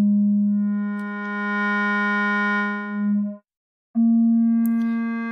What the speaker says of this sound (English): you can hear the sine wave start,